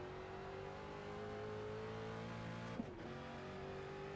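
Simulated race car engine from iRacing with a manual gearbox, holding a steady high rev drone with layered harmonics, then a brief clunk and pitch dip as a gear finally engages.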